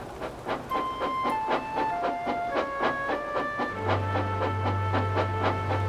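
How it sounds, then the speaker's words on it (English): A steam locomotive pulls away with its express coaches, giving a steady, rhythmic chuff with a hissing edge. Sustained whistle-like tones and a low hum join in partway through. "I see Gordon is off with the express"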